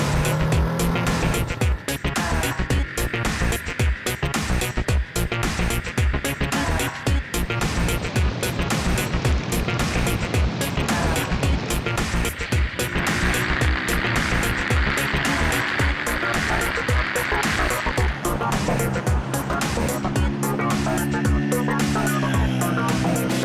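A Hyosung or Megelli 250 motorcycle with a punchy single-cylinder-class engine of about 28 horsepower runs steadily and loudly nearby, revving and pulling under acceleration with continuous throttle changes throughout.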